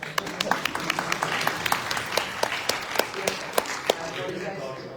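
A lecture audience at the University of British Columbia breaks into scattered clapping, a sparse run of separate hand claps spread over several seconds in a room, some sharper and louder than others.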